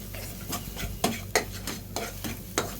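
Spice paste being stir-fried for a soybean dish: repeated scraping strokes of a utensil against the pan arrive every half second or so over a low sizzle, fairly quiet, with no speech.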